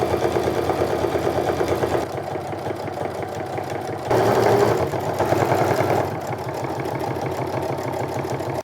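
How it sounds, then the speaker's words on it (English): A sewing machine topstitches down the edges of a bag with a steady, rapid mechanical chatter that runs in bursts, briefly louder in the middle, close and alone. "now we're going to top stitch down both sides of this"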